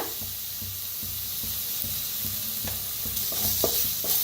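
A frying vada pav filling gets turmeric stirred through it, with a continuous bright sizzle of oil and a steady rhythm of spatula scrapes against the pan, close and clear.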